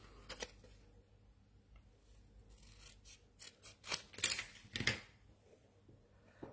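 Scissors cutting paper while making a surprise box, a few crisp snips at close range in a quiet room, clustered toward the end of the clip.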